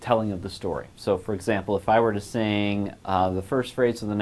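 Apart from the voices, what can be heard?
None of the usual background noises is heard.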